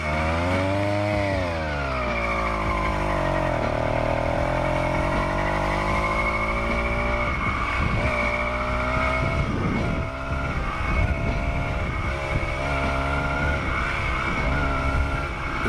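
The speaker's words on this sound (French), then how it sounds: "puis on lâche l'embrayage et le moteur démarre." A small 80cc two-stroke engine on a motorized bicycle buzzes loudly, its pitch climbing as it revs up after the clutch is released, then holding a raspy, steady drone.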